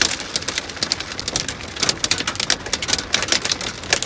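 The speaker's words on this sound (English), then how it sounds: "Heavy hail and rain." Heavy hail and rain pound a truck during a desert storm, a dense, continuous clatter of sharp impacts on metal and glass, loud and close with no talking.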